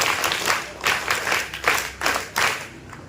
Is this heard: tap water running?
no